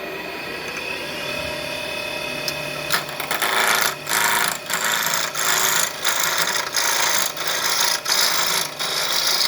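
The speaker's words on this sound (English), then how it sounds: "the tool that's going to get used here is the 3/8 inch detail gouge" Wood lathe spinning a bottle stopper blank at about 1100 RPM while a 3/8 inch detail gouge cuts it, a steady motor hum giving way to rhythmic rasping scrapes repeating about once per second.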